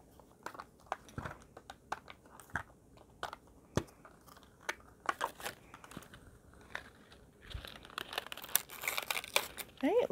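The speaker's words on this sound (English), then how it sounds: "Let's go ahead and open up our last ball" Plastic wrapping on a Mini Brands surprise toy ball crinkles and tears in a run of sharp, close bursts, with irregular gaps and denser rustling toward the end.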